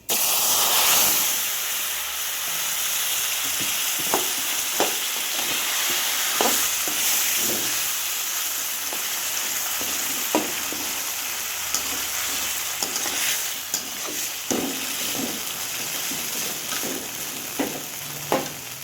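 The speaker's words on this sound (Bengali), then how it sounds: "এখন দিয়ে দেব কচুর শাকগুলো।" Taro leaves fry and get stirred in oil in a pan, a loud continuous hiss and sizzle with steam, punctuated by scattered scraping spoon strokes throughout, close up and with no talking.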